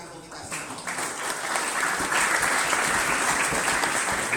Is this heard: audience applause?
yes